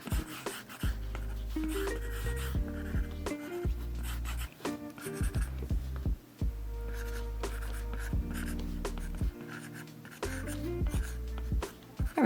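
Pencil sketching a character drawing on paper, with steady scratchy strokes that run in long bursts separated by brief pauses, up close, while a strong low hum of background music or tones plays throughout.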